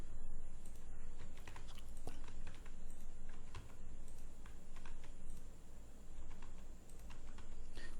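Steady typing on a computer keyboard while entering data in an Excel spreadsheet, with continuous, fairly quiet clicking keystrokes close by.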